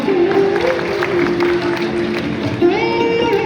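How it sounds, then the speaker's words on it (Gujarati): A steady patter of audience applause welcomes the chief minister at a traditional reception ceremony, mixed with crowd noise and sustained musical tones. "તાળીઓથી વધાવીશું."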